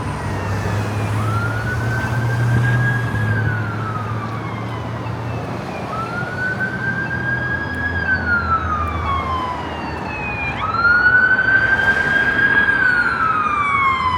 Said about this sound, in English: Here comes the ambulance, Dougie Doug.